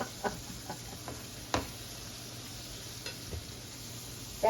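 Pork cutlets sear in a pan on a medium-high stovetop, giving a faint, steady sizzle with a few soft ticks and knocks scattered through it.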